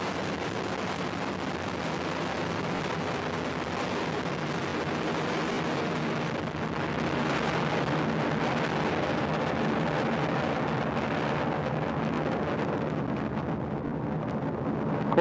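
A Delta IV Heavy rocket roars steadily through its launch ascent from California, a continuous broadband rumble that stays loud and even throughout, with no voices over it.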